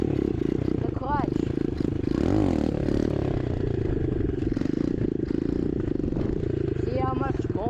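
A motorcycle engine revs in loud, close bursts as the rider uses the clutch to lift into a wheelie, with a steady mid-range engine drone, scraping clatter and a rising whine, while someone talks over it.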